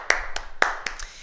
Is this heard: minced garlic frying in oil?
no